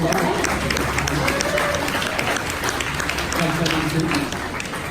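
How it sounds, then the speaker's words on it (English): Audience applause at an evening awards ceremony for regional tech talent in Australia, steady and fairly loud throughout, with a crowd murmur and a voice speaking underneath. "Big round of applause"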